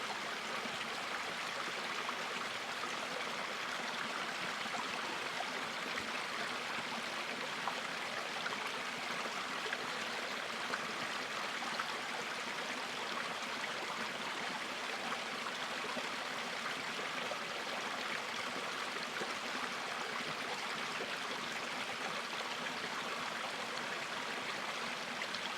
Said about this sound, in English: I have an abundance of sound, from the water flowing over the rocks